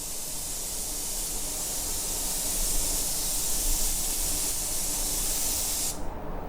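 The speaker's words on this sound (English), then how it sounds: "I'm just using the gun as a blow gun here in conjunction with a tack rag" Steady, loud hiss of compressed air blasting from a paint spray gun used as a blow gun, continuous for several seconds before cutting off abruptly near the end.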